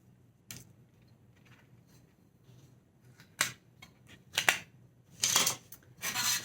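Scissors trimming the edge of a diamond painting canvas, with a few sharp snips and crisp cuts clustered toward the end, close and fairly quiet, no talking.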